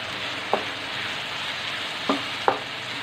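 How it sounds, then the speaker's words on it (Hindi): Chicken pieces coated with a spoon of all-purpose flour sizzle steadily in a pan, with three brief spoon scrapes or taps breaking the even hiss. "Now I will add 1 teaspoon all purpose floor मैदा और इसे हम अच्छे से भून लेंगे।"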